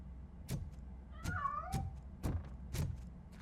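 Cat meowing in the video game RoboCop Rogue City, a single short faint meow amid a few soft thuds and clicks, with no speech.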